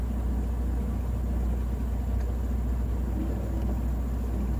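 NASCAR team hauler truck creeping along at about five miles an hour, its engine a steady, low, even rumble heard from inside the cab with no voices.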